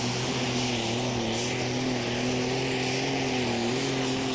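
A International 3688 tractor pulls at a Eurocup tractor pulling event in Brande, Denmark, its engine roaring loud and steady with a droning hum that wavers slightly in pitch across the whole stretch.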